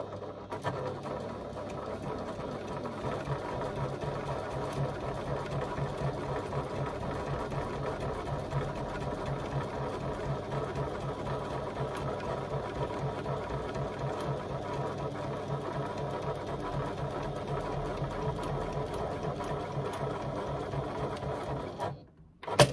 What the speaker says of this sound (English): So I'm going to do 2 lines of stitching.